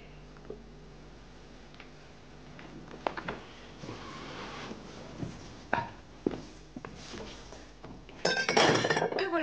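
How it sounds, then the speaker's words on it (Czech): Old glass tumblers clink and tap against each other and a bottle in scattered light knocks, building to a louder, busier burst of glassy rattling as a drink is poured near the end. "Nebo já ti naleju, to jsou skleničky po babičce, buď opatrný."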